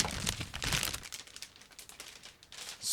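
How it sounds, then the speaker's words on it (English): Loud, close crinkling of a plastic bag from a 1/35 scale model kit being opened, with continuous rustling and crackling throughout. "Now I'm opening the second plastic bag, and probably you can hear this."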